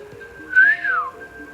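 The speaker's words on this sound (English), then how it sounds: "Aaron whistles." Aaron, a character in the game, gives a single rising-and-falling whistle, clear and close, over a quiet background of faint music.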